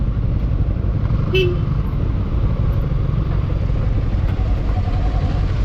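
A single short horn toot cuts through a steady low rumble of engine and road noise.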